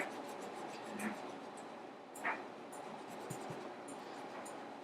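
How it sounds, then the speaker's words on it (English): Soft, faint scrubbing of a white eraser rubbing out pencil lines on drawing paper, quiet rasping strokes close by with a few small bumps and taps. "I'm going to erase my vanishing points as well."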